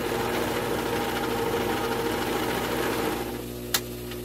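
A sewing machine runs steadily, close and continuous as it stitches fabric strips together, then stops with a single short click at the end.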